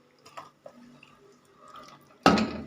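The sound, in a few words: tomatoes, onion, pepper and spleen added to boiling water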